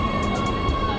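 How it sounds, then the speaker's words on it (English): An Oslo metro train at a station, a steady low rumble and broad hiss with a constant electrical whine and soft intermittent hissing bursts, close and continuous for a second. "Oh, this is our train."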